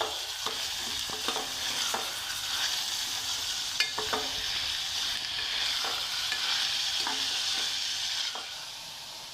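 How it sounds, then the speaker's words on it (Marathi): Onion and tomatoes fry in a pan for prawn biryani, a continuous hiss of sizzling oil broken by repeated spatula scrapes, steady and close, fading slightly at the end. "आता आपण याच्यात कांदा थोडा लालसर करून घेतलेला आहे आणि सुद्धा मी आता शिजवून घेते टोमॅटोसुद्धा आपल्याला थोडंसं शिजवून घ्यायचं आहे"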